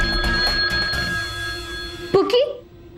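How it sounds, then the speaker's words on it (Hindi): A telephone rings with steady electronic tones beneath an agitated voice for about two seconds, then the ringing cuts off abruptly and a brief clatter follows. "अब तक रिंग जा रहा है।"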